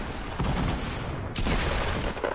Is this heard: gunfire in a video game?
yes